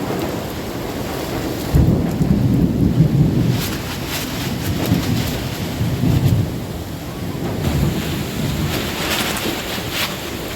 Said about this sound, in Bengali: প্রবল ঝড় আর বৃষ্টি একসঙ্গে হচ্ছে